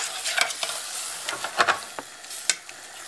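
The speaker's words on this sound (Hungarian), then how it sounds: "Szépen beforraljuk" Pork stew sauce bubbles and sizzles as it boils down in a pot, with soft popping and stirring sounds, close and alone without talk.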